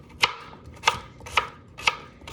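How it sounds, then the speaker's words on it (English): Chopping food on a board with a dull kitchen knife: five evenly spaced crisp thunks at a steady rhythm, close and clear with no talking. "getting your chopping done as quickly and safely as you can"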